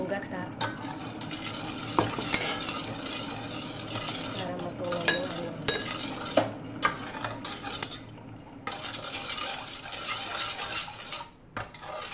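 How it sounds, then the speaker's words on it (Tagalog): A pot of maja blanca mixture is stirred over a low flame, a utensil scraping and knocking against the metal in a steady, close rhythm with occasional louder clinks, continuing nearly throughout. "habang hinahalo po natin yan"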